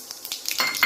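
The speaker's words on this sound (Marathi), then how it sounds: "तेल गरम झालं आहे. फोडणी टाकून घ्या." Spices dropped into hot oil for tempering, with a short burst of sizzling and crackling that swells quickly, along with a few light clinks of a utensil against the pan.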